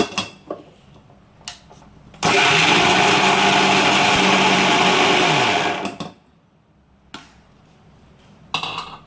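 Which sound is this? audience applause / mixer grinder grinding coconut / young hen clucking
mixer grinder grinding coconut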